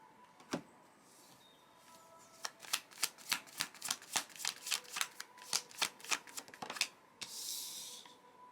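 Tarot cards shuffled by hand in a quiet room, a long run of crisp riffling flicks in a steady rhythm, close and clear, ending in a brief soft rustle.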